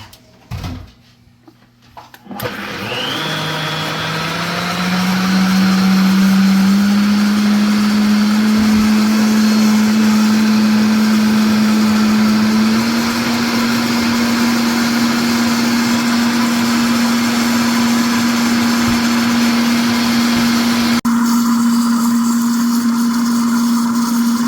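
A blender mixing chocolate espresso mousse whirs steadily at close range, its motor pitch rising slightly after starting and holding a loud, continuous drone for about twenty seconds.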